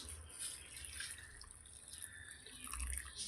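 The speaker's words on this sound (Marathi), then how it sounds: "मी गरम पाणी घालते" Hot water pours and trickles steadily into a container, a faint, soft splashing with a light hiss and no voices.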